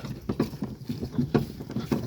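Rhythmic clip-clop of a draft mare's hooves at a steady walking pace, close by, with a faint rumble of a cart underneath.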